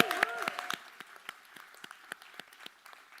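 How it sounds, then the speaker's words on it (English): A conference audience applauds at a debate, a thin spread of scattered claps that thins out over a few seconds, heard at a moderate distance with a brief voice at the start. "you cheer for everyone, but you cheer louder for the ones that you really like"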